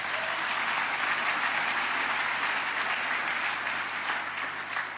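A congregation applauding during a church worship service: dense, sustained clapping from many hands at an even level for the full stretch, with no other sound standing out.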